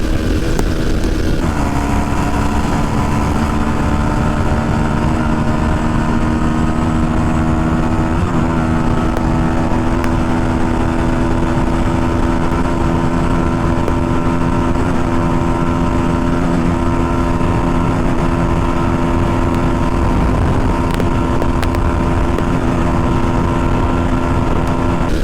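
Bajaj Pulsar NS 160 and TVS Apache 160 4V motorcycles in a top-end drag race give a continuous, loud engine drone heard up close at high revs, holding steady with only slight pitch shifts throughout.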